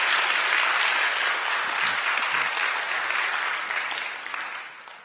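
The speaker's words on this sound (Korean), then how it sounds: "여러분들 환영의 박수 부탁드립니다." A church congregation at a Sunday worship service claps loudly and steadily to welcome a new member, the applause tapering slightly toward the end.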